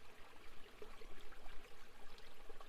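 A waterfall on an island flows steadily, a faint, soft rush and trickle of water with gentle swells, heard alone without any voices.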